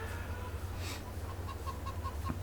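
Farm chickens in Farming Simulator 22 cluck softly in short repeated calls over a steady low background hum.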